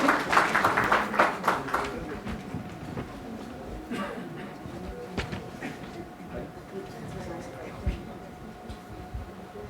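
An audience at a literature festival session in New Delhi claps loudly to welcome actor and cricket fan Karan Khandelwal on stage, with dense applause in the opening two seconds that fades into scattered claps beneath crowd murmur.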